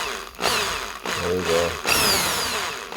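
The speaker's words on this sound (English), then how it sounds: "Alright, let's drill this Barbie car." A power drill whirs in bursts against a toy Barbie 1956 Corvette during a wheel swap, with a steady mechanical drone and pauses between runs, close and loud under brief speech.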